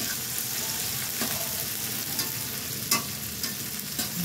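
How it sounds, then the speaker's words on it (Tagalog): Eggplant fries in a pan for adobo while being stirred, a dense continuous sizzle with soft scraping strokes and a few light clinks of the spoon against the pan. "Haluin lang natin ng haluin."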